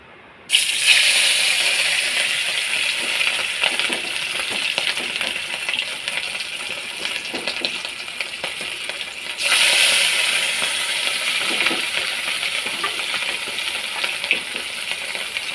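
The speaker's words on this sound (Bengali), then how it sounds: "এখন মাছগুলো ভেজে নেব" Rohu fish pieces frying in hot oil in a heated wok give a loud, steady broadband sizzle with crackling pops, swelling briefly as more oil spatters partway through.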